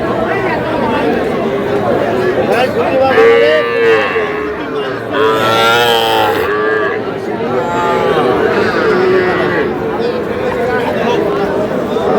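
Young bulls and heifer calves at Aftabganj cattle market (haat) give several loud, drawn-out moos over a busy crowd murmur, while people nearby talk and haggle.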